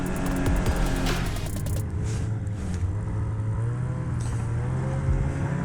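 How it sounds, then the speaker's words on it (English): Snowmobile blowing past on a trail during a ride, its engine whine rising and fading as it goes by, heard close over the steady drone of the rider's own machine. "That's Jesse just blowing by me in front."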